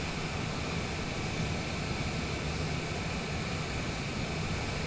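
Steady, loud engine drone of a small airplane taxiing toward the runway, heard from inside the cockpit as an unbroken broadband roar with no talking.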